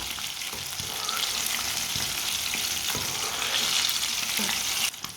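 Fish fries in a pan while cooking Punjabi style, giving a steady, close hiss of oil sizzling, with occasional soft scrapes and taps and a brief clatter at the end, no voices.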